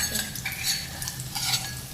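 Potatoes tempered in hot oil with asafoetida, cumin, garlic and Kashmiri chilli, giving a steady soft sizzle under repeated stirring and light scraping of a utensil against the pan, close by with no talk.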